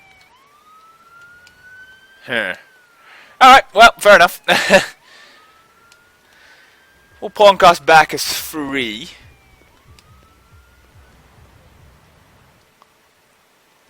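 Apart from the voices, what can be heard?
police siren in Emergency 4 video game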